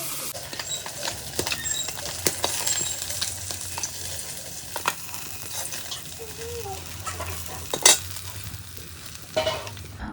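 Fish frying in a pan makes a faint, even sizzle with scattered clicks and a few louder knocks, heard at a distance along with faint outdoor background sounds.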